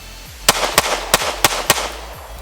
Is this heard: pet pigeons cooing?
no